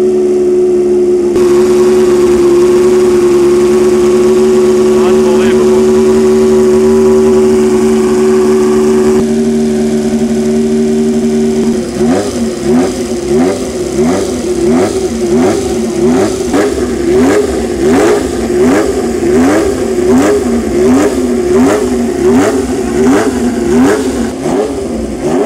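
A 1.5-litre Ferrari Formula One car engine drones at a steady high pitch, then revs repeatedly in rapid rising and falling bursts as it climbs a hill, loud and close.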